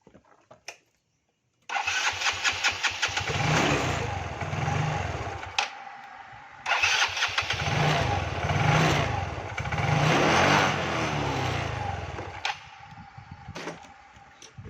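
A motor cranks and catches, then runs with a steady, throbbing idle, cuts out briefly, and restarts to run again close by.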